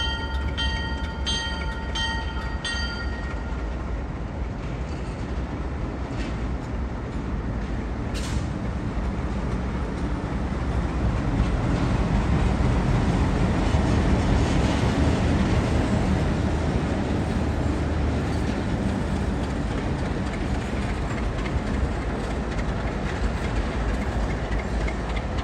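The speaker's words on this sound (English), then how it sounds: "The first one is a true Alco, a C630, and the second one is an MLW copy of the same engine." Two Delaware-Lackawanna diesel locomotives, a true Alco C630 and an MLW-built copy of the same model, roll past with a steady loud rumble and rail clatter that swells midway and continues throughout, with no talk.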